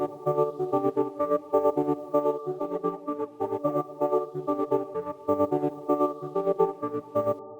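A synth sequence runs through a phaser with chorus synced to quarter notes, playing a rhythmic pattern of short pulsing notes that swell with a gentle wobble, steady and clean with no voices.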